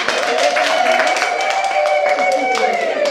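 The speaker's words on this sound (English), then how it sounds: "We'll clap our hands for Irene." An audience at a Soroptimist chapter launch in Embu, Kenya claps hands in a brief, fairly close round. The clapping is mixed with a voice and murmuring from the room.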